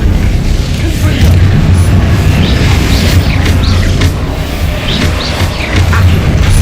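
Explosive Confringo spell blasts in the Hogwarts Legacy video game, heavy rumbling booms layered over loud continuous low-end noise with scattered crackling bursts throughout.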